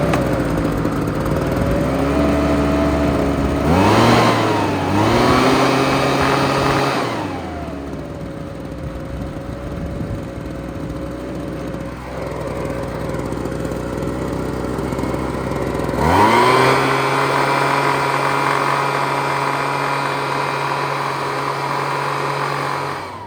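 Ryobi gas leaf blower's small two-stroke engine running steadily, loud and close, revving up twice and dropping back to a lower idle in between, with no talking.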